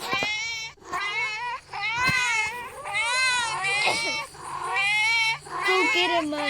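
Several cartoonish cat meows from the chasing cat characters in the Nextbot game, overlapping in a dense, continuous string of loud, close, wavering cries, with a voice talking over them.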